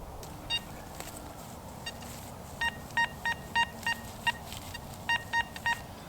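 A metal detector sweeps a field and signals a target with a series of short electronic beeps, several in quick, irregular bursts over a low outdoor background.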